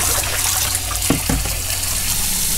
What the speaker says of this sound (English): so turn the hot water tap on